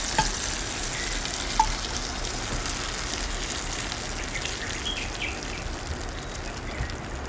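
Hot spice tarka with browned garlic sizzles over lentil dal, a dense, steady crackling hiss like light rain that continues unbroken, close and fairly loud, with no talking.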